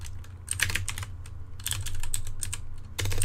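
Fingers type on a computer keyboard in rapid bursts of crisp clicking keystrokes with short pauses between runs, close and clear over a low steady hum, no talk.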